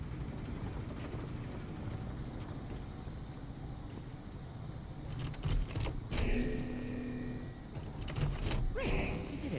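A turbine powering up in the puzzle game Call of the Sea, a low rumbling whir with wind-like rushing that swells and turns more active midway, with a few mechanical clunks, no voices.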